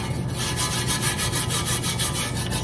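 A thin coating is spread over the inside of a baking pan with soft, rhythmic rubbing strokes, close and fairly loud, with no talking.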